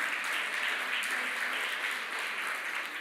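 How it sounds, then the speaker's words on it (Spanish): Spanish-speaking church congregation applauding during a worship service, a steady, dense wash of many hands clapping at even loudness throughout. "Sí Señor, dale ese aplauso y dile, sí Señor,"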